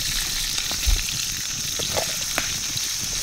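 Continuous crackling sizzle of food frying in a pan outdoors while bushcrafting, close and steady with occasional small pops, no voices.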